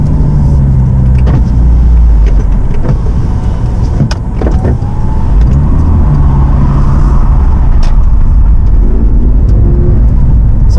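A Porsche 997 Carrera drives along the Old Pacific Highway near Sydney, its engine a loud, steady rumble from inside the cabin with a few brief whirs and shifts in tone.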